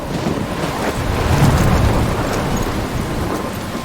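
A thunderstorm in the video game Life is Strange: dense rain and gusting wind roar continuously, with deep rumbling thunder swelling in the middle, loud and enveloping with no voices.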